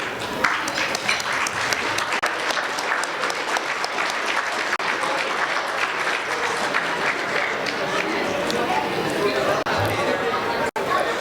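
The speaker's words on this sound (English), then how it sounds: "will you please give your coaches their certificate located in the middle of the table, and a big round of applause" An audience at an academic decathlon awards banquet applauds the coaches as they collect certificates, with dense, steady clapping and crowd chatter continuing throughout.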